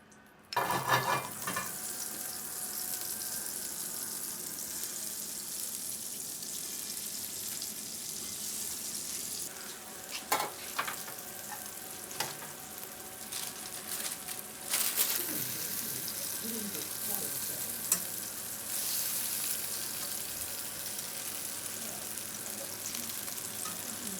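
Olive oil and butter sizzle in a pan with a loud, bright hiss that starts suddenly and holds for the whole stretch, broken by occasional clinks and stirring, with quiet speech underneath.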